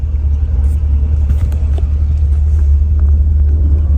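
A Chevrolet truck engine idles at a car show in Florida, producing a steady deep rumble that stays close and constant throughout.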